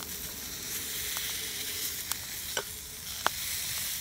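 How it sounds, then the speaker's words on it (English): Sausages sizzling over a wood-burning stick stove outdoors, a steady hissing fry with occasional sharp pops and crackles, fairly close and alone. "My sausages are cooking no problem."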